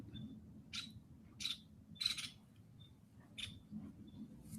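A bird sings faintly in the background in short, thin chirps repeated every half second or so over a low steady hum.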